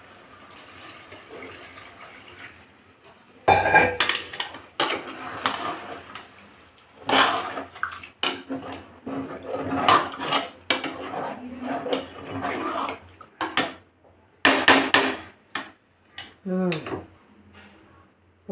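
While chicken gravy cooks, a pot lid and cookware are handled in bursts of scraping, rubbing and clattering, with quiet gaps between and a person talking throughout.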